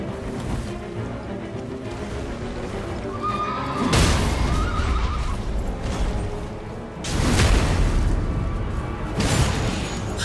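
An agile boss horse in Elden Ring lets out loud whinnies over a busy combat din, with a sharp burst around the middle and another surge later, layered over continuous rumbling game action.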